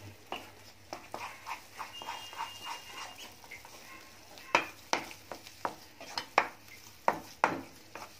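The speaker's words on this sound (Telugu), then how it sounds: "బాగా సిమ్లో పెట్టేసుకొని బాగా ప్రెషర్తోటి ఇది కలుపుకోవాలి" A spoon scrapes and stirs besan halwa with jaggery in a pan, making irregular soft clinks and scrapes against the metal that are quiet and close.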